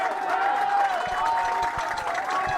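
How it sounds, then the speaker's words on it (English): A rugby crowd applauds as a player leaves the field in wet weather, a steady spread of clapping and cheering with some scattered low thumps and a voice over it. "that is the danger man, Connor McKinney, getting his just applause coming off the field"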